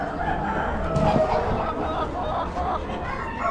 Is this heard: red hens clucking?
yes